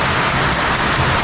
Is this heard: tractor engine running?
no